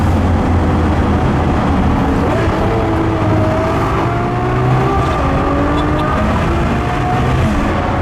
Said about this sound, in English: I can't get over the gear shifts. They're just unreal.